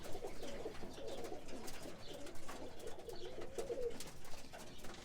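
Young roller pigeons coo softly and continuously, with overlapping low coos rolling on throughout, fairly quiet with no voices.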